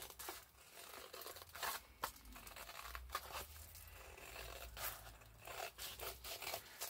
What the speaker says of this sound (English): So let's cut out this first tag.